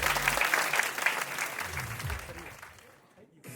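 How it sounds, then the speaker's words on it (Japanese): A crowd applauds two fingertutting and tutting dancers at a dance battle final, brisk clapping that swells at first, runs under a speaking voice, then thins out and fades. "いた2人に大きな拍手。"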